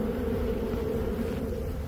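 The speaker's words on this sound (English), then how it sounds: "The bees are right below the steel." A colony of bees buzzes in a hive beneath a steel storage container, a steady, dense, close drone that holds unbroken and at even loudness throughout.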